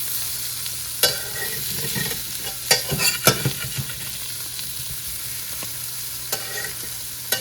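Paneer frying in a pan while cooking palak paneer, giving a steady close sizzle with occasional sharp scrapes and clinks of stirring, no talk.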